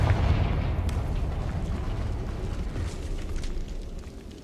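A Confringo fire spell bursts in Hogwarts Legacy, a loud, deep rumbling blast that starts strong, rolls on steadily and fades slightly toward the end, with no voices over it.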